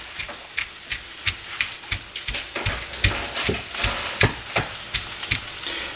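Pine nuts roasting in a pan give off a soft, steady sizzle broken by frequent small ticks and pops at a fairly even pace, close by and with no talking.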